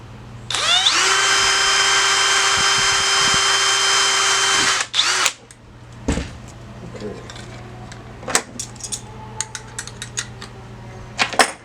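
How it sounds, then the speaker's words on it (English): A power drill whines loudly and steadily for several seconds drilling holes in an aircraft sensor bracket, then stops, followed by scattered metallic clinks and light handling noises nearby. "Go ahead and drill this."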